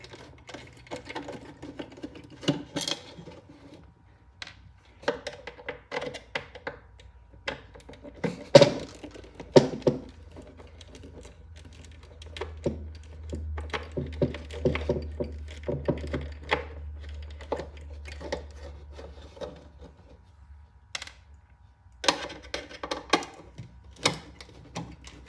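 Screws are taken out of the bridge of a resonator guitar during refinishing, giving sparse dry clicks and ticks with pauses between them and a steady low whir in the middle.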